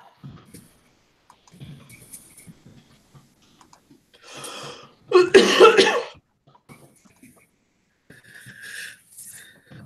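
A single sharp sneeze bursts out midway through otherwise quiet surroundings, with faint soft clicks and small sounds before and after.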